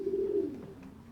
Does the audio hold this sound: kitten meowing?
no